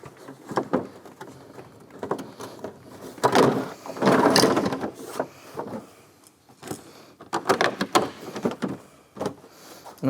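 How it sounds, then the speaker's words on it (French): A door panel is pushed back onto a microcar door during a window regulator repair, with scattered plastic knocks, rustles and clicks and a longer scraping shuffle as the panel is seated. "On va ensuite remettre notre panneau de porte."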